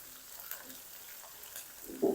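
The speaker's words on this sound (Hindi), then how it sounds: "और 3 लाल मिर्च जिसको मैंने छोटे छोटे टुकड़ों में तोड़ दिया है, ये शामिल कर देंगे।" Red chillies and whole cumin seeds sizzle in hot oil for a dal tempering, a faint, steady frying hiss with a slightly louder burst near the end.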